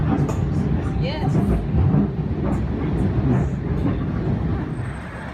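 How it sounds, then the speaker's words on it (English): Rumbling low-pitched running noise of a commuter train bound for Penn Station in New York City, steady and loud throughout, with people talking over the rolling drone. "This is the train to Penn Station."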